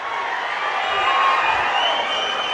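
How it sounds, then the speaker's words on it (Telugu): A large crowd at a public meeting in Aluru, Andhra Pradesh, responds to the Chief Minister with a steady, dense wash of clapping and cheering that holds evenly throughout. "గట్టిగా చప్పట్లు కొట్టి అభినందించడం"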